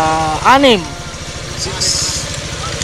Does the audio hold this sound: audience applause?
no